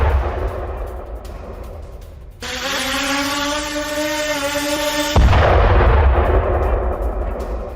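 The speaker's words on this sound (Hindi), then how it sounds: "धमाकों की आवाज भी सुनी जा सकती है" Explosions following a drone attack on Taganrog, heard as broad rumbling blasts with a sustained tonal whine in the middle, loud and fairly close, with no talk.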